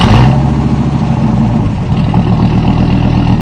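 A Dodge Viper's 8-liter V10 roars close and loud for several seconds, a deep, sustained engine rumble that rises at the start and stays heavy throughout.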